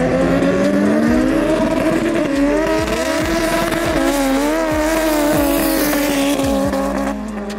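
A 700 hp Lada 2108 race car accelerates hard and close, its engine note climbing through repeated gear changes with sharp shift breaks, loud and steady throughout.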